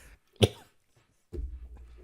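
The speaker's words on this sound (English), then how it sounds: "You just cough. I'll ignore the cough." A single sharp cough, close and loud, followed by a pause and then a low rumbling shuffle of handling noise.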